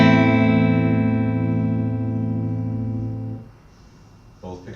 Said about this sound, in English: So here's the bridge pickup on the clean channel.